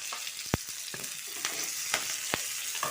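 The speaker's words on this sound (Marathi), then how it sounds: "छान तेलामध्ये अशी फोडणी तयार करून घ्यायची" Sesame seeds, green chillies and curry leaves crackle in hot oil for a dhokla tempering, a close steady sizzle broken by a few sharp pops and spits, no talking.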